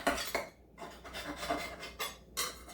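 A knife scrapes around egg bites in a pan, several rasping metal strokes in an uneven rhythm, close and fairly quiet with no voices.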